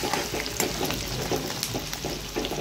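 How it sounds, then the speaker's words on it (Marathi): Chopped onion frying in oil for a Marathi matki dal and onion dish, a close crackling sizzle with bursts of stirring and scraping scattered across, no voices. "आता तो तेलामध्ये टाकून परतून घ्यायचा आहे"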